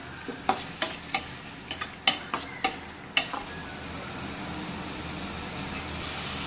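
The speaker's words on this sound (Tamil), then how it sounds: "இப்போ இதை நல்லா கிளறி விட்டுக்கலாம் வெங்காயம் வந்து பொன்னிறமாக மாறி வரட்டும்" Onions stirred and sautéed in a pan for a chicken gravy: a row of sharp spoon scrapes and knocks against the pan over a continuous low sizzle, ending in a steadier fry with no voices.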